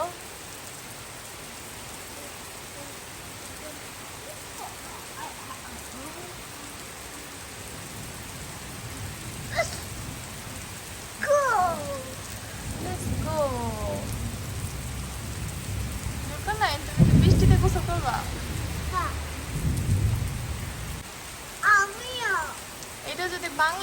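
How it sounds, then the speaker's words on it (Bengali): Steady rain in Italy patters continuously in the background while people, including a child, talk intermittently over it. "অনেকেই যাতে দেখতে পারে কত সুন্দর বৃষ্টি পড়তেছে"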